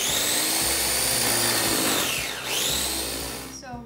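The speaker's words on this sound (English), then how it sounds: "So we've been grinding the wheat for about 15 minutes." A grain grinder runs loud and steady as it mills wheat into flour, a continuous whirring motor drone with shifting pitch that dips briefly midway and then picks back up.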